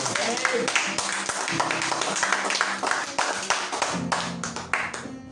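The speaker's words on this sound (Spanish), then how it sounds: "Den un aplauso." A church congregation claps enthusiastically during a sermon, a crowd of quick, rhythmic hand claps mixed with raised voices and cheering nearby, loud and busy throughout.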